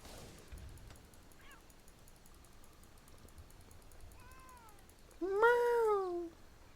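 A house cat, Kitty, gives a faint short chirp early on, then a soft rising mew, then one loud, drawn-out meow close to the microphone near the end, over a quiet room with faint background noise.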